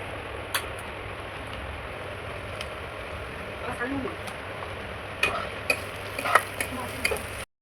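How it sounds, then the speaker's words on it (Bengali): Onion fries in a pan with salt, giving a soft, continuous sizzle, with scattered stirring scrapes and clinks that grow busier toward the end. "পেঁয়াজটা যাতে তাড়াতাড়ি একটু ভাজা হয় তার জন্য একটু নুন দিতে হবে"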